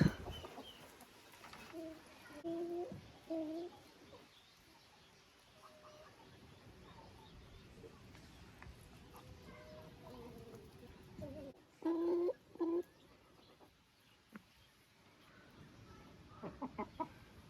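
Hens in a garden or coop cluck softly and intermittently close by, with occasional louder bursts of clucking and scattered quiet rustling between them.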